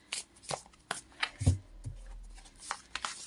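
Playing cards shuffled left-handed in a few quick riffling bursts, close and crisp, with soft handling taps between them.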